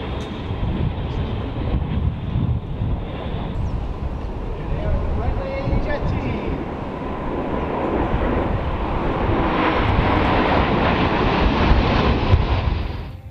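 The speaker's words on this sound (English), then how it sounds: "the Breitling L-39 jet team roared through on their arrival" Breitling L-39 jet team flying over an airshow, a continuous loud roar of jet engines swelling slightly toward the end, with heavy rumble and wind buffeting, no clear voices.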